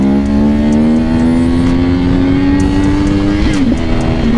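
A 1000cc sport motorcycle engine revs hard and steadily, its loud, rising tone climbing continuously for several seconds before a brief blip and dip near the end, close to the listener with no talking.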